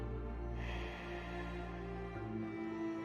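Ujjayi breath during a seated chair-yoga session: a soft, steady hiss of air exhaled through the nose with the mouth closed, rising at about half a second and continuing faintly under a low constant hum.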